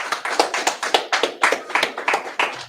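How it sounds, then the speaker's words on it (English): A group at a Purim feast gathering claps together in a steady, rhythmic beat, loud and close, with sharp regular hand strikes repeating about three times a second. "So clap it up"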